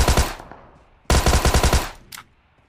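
Two loud bursts of rapid machine-gun fire in a video game shootout, the first short and the second about a second long, followed by a single brief crack and fading echoes.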